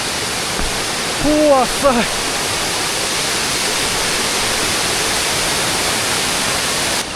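Zhaga waterfall at Munigou in Songpan, in the rain, roars as a loud, unbroken broadband rush close by, with a person briefly exclaiming over it early on.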